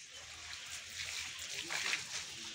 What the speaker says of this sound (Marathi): तर इथे बघा खूप असा फोर्स असल्यामुळेच पाईप पकडायला लागतो आणि यासाठीच आम्हाला दोघांना मिळून पाणी मारायला लागतंय।